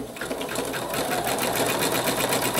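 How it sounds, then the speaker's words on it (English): A sewing machine stitches continuously through a quilted owl mug rug with batting, a steady close whirring hum with a rapid even needle rhythm throughout, no voices over it. "And then you're going to grab your tail, start your machine again."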